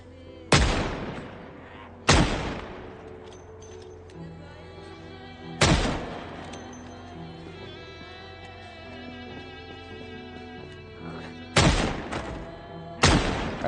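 Gunfire from an M16 rifle in the Project Zomboid zombie survival game: six loud, sharp shots fired singly at irregular intervals, each with a long ringing decay, over a low ambient hum.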